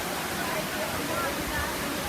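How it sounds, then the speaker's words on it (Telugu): Kottapalli waterfall near Paderu, Visakhapatnam, roars as a steady, dense rush of falling water throughout. "పాడేరు దగ్గర కొత్తపల్లి జలపాతం"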